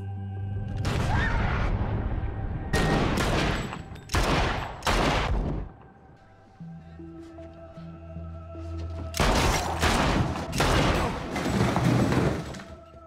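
Gunshots ring out in a gunfight from the 2023 film Your Lucky Day, loud clustered bursts of fire separated by short lulls, with a low rumbling tone filling the pauses.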